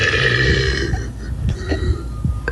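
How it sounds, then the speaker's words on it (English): A long, loud, rumbling human burp rolls on for over two seconds in several gurgling pulses, close up and without any talking. "I was gonna say there's 5 in that burp."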